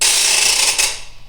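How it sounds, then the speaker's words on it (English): A rattle is shaken in one dense, loud burst of bright clicking that fades away after about a second. "Came rattles,"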